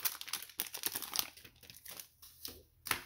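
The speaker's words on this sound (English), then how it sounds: "we'll open up just the 12 card packs first" Cello-wrapped NBA Hoops Premium Stock card packs being opened: close, quiet plastic crinkling and tearing in irregular bursts, with short pauses between handling sounds.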